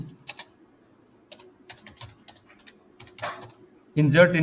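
Computer keyboard being typed on to enter an SQL insert command, a scatter of light close key taps with pauses, then a voice speaking at the end.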